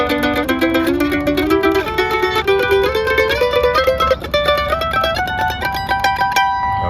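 An ascending double-stop scale on mandolin, fretted with ring and first fingers, climbs in paired notes at an even tempo; bright, close-miked plucked strings ring out with nothing else heard.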